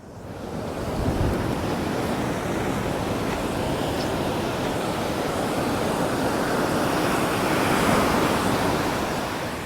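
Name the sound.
ocean waves breaking on a beach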